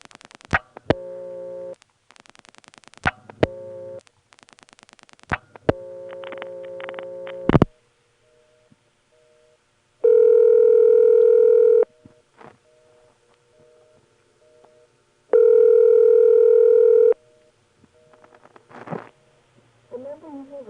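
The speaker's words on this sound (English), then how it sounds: "Let's try dialing a digit." An XY step telephone exchange trunk answers dialing with bursts of rapid mechanical pulse clicks and stepping noises, then two long, loud steady tones separated by quieter clicks and a faint hum.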